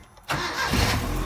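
A 1993 Mitsubishi Mighty Max pickup with a 2.4-liter engine cranks and catches after a short quiet moment, then settles into a steady, close, loud running rumble with no talk.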